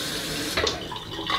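Tap water running into a bathroom sink while a face is rinsed after a straight razor shave, a steady close splashing stream with brief louder splashes.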